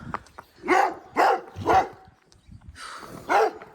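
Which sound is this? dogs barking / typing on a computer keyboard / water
dogs barking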